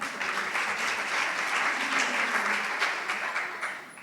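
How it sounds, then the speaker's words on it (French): Steady applause from an audience at a formal event in France, filling the whole stretch at an even, dense level with no break. "je pense que ça se mérite d'être applaudi"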